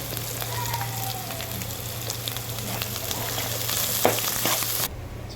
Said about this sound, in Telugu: కరివేపాకు వేసుకున్నాం.